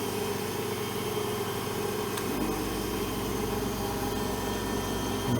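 A CNC lathe machining stainless steel switches on its coolant lubrication system. A steady mechanical hum runs throughout, and a deeper, fuller rumble joins partway through and then holds constant.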